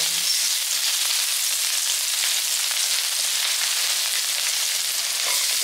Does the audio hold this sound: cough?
no